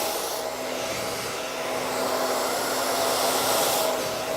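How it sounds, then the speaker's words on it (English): A hair dryer blowing on hair during styling, a steady loud whooshing drone with a faint motor whine that swells slightly as the airflow shifts. "And you can blow dry that in."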